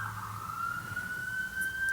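A police car siren sound effect: a single steady electronic tone that climbs slowly in pitch, holding loud and continuous over a low background rumble with no speech.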